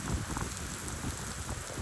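Dense, steady rain pattering on surfaces, a continuous wash of drops with no voices.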